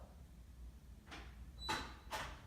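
A door opens as someone walks into a home, heard as a few soft, brief scraping and swishing bursts spaced about half a second apart over a quiet room.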